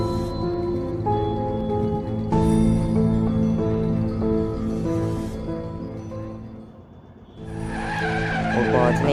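A cartoon car heading home with party supplies, its tires skidding and squealing loudly in long, tonal screeches over a steady engine drone, with a fresh burst of squeal near the end.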